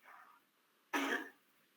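A patient in a hospital gives a single short, harsh cough after a faint breath, quiet and close, with near silence around it.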